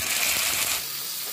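Chopped tomatoes tipped into browned fried onions in a pan for plain kushka biryani, giving a steady, fairly loud broadband sizzle with small crackles that eases slightly toward the end.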